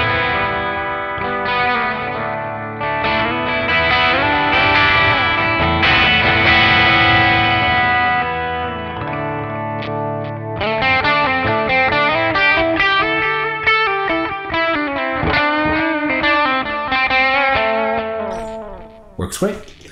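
Electric guitar played through a NUX Cerberus pedal with its drive on, set for an American amp sound, plays sustained, distorted chords with a chorus-like shimmer. It shifts to choppier picked notes and phrases, loud and continuous, ending in a brief scrape.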